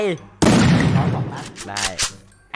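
Loud bursts of gunfire from the Free Fire shooter game, a dense volley followed by a couple of shorter bursts, with a voice heard briefly before and between the shots.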